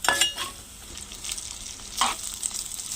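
Cooked rice is stirred into a frying ginger mixture in a pan over low heat, making a soft sizzle broken by several scraping stir strokes close by, with no voices.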